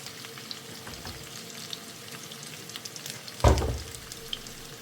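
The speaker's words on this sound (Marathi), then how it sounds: "सो कांदे न्ही आमकां बरें गोल्डन कलर जायसर आमकां हे फ्राय करून घेवंक जाय" Sliced onions fry in melted butter, crackling softly and steadily, with a sharper stir or clatter near the end.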